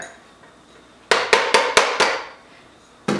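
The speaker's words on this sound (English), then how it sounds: "Make sure you mix your cornstarch completely." Cornstarch being mixed in a bowl for a custard filling for paczki, heard as about six sharp, ringing clinks and taps in quick succession, close and fairly loud, with no talking.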